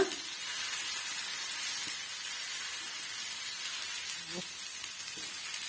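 Whole lemons roast on a hot dosa tawa, giving a soft, continuous sizzle and hiss with a few faint pops and taps, quiet and unbroken with no talking.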